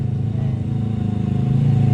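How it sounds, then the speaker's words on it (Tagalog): A motorcycle engine climbs a hill toward the listener, a steady low drone that grows slightly louder as it nears. "Dala-dala niya ang motor ni J4."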